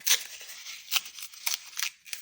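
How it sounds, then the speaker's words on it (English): Corrugated cardboard torn by hand makes several short, close ripping bursts with brief pauses between them. "I'm just going to take this corrugated cardboard from one of my orders, and I'm just going to tear that up."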